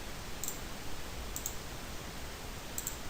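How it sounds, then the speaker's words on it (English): A few crisp, faint clicks of a computer mouse and keyboard keys, three brief ticks spaced about a second apart over a quiet background hiss. "I'm just going to click once, hit Control C"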